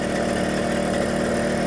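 A 1979 Suzuki JR50 minibike's small engine idles steadily during a heat cycle, a loud, close, continuous buzzing drone with an even rhythm and no voices.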